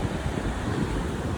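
Parvati river rushing past Jia village after a flash flood, a steady broadband roar of flowing water with no breaks, fairly faint and distant, without any voices.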